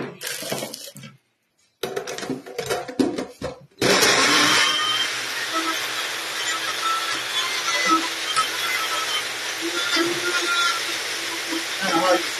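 A Ganiza blender crushes frozen strawberries with a loud, harsh whirring grind that starts abruptly after a few short pulses and bursts, continuing steadily up close.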